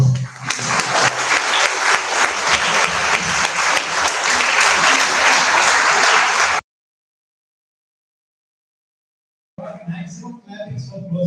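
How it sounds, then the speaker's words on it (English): Audience applause at the close of a talk, loud and dense for about six and a half seconds, cutting off abruptly, followed by silence and then speech. "Maximum clapping for closing"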